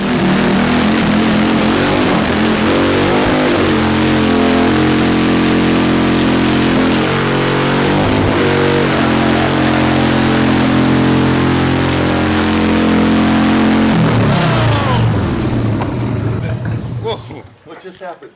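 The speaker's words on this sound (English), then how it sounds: "we don't condone burning tires off on a regular because they're so expensive" 1995 Harley-Davidson XLH Sportster 1200 motorcycle holding a loud, sustained high rev during a tire burnout, a steady droning roar that wavers and dips before cutting away near the end, with voices faintly present.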